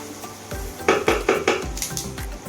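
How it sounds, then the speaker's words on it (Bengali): Snails fried with onion and green chili in a pan, with a spatula clanking and scraping against the metal in a quick run of close, loud strokes over a soft sizzle. "এখন গুগলি, পেঁয়াজ আর কাঁচা লঙ্কাটা দিয়ে ভেজে নিচ্ছি।"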